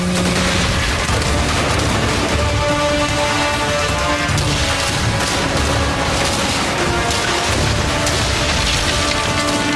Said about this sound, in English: The Jaeger slips into position with its powerful cannon. Its special ability delivers 8 shots in a single blast